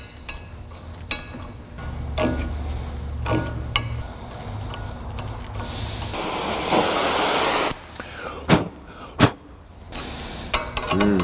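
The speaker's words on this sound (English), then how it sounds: "This is the best penetrating oil ever." Penetrating oil sprays from an aerosol can onto rear brake parts of a GMT400 pickup truck in one loud, close hiss lasting over a second. A few sharp clicks and knocks from the workshop come before and after it.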